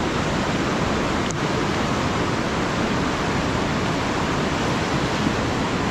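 Rushing floodwater in a swollen provincial river after a typhoon, a dense, steady roar that stays loud and unbroken throughout with no voices.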